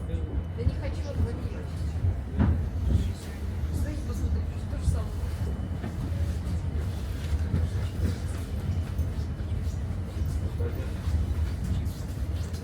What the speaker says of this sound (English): So we start, and the train rides smoothly and gently, and is quite quiet compared to the old ones.